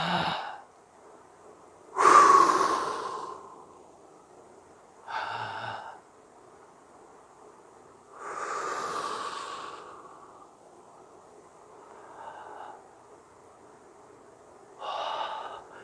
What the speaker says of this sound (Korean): 이렇게 한번 숨 쉬어보는 거예요.